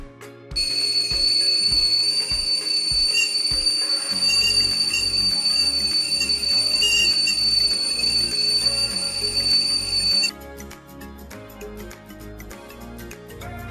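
A steady, piercing whistle from a stainless steel tea kettle sounds loudly for about ten seconds, then cuts off, leaving a low rumbling hum.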